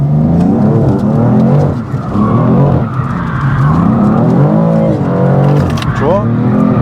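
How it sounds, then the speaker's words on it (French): A BMW M4 drifting, its tires skidding and squealing while the engine roars, loud and continuous up close from inside the car, with people talking over it. "Tu vois, on appelle ça le drift. On appelle ça un peu de drift."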